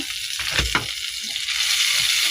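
Butter melts and sizzles in a hot pan, a close, steady frying crackle with a couple of brief scraping stirs partway through.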